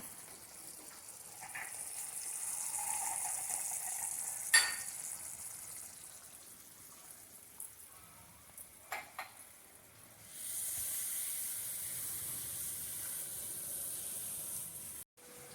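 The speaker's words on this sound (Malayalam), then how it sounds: "ഒരു ഇച്ചിരി കൂടെ വെള്ളം ഞാൻ ചേർക്കുകയാണ്" Water is added to a simmering tamarind-based okra curry made without coconut: a faint hiss of bubbling with a soft knock partway through, then a louder, sustained sizzle for the last few seconds.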